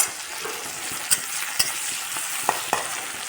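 Green chilies and turmeric frying in a pan make a steady, fairly quiet sizzle, broken by a few sharp clinks of a spoon stirring against the metal.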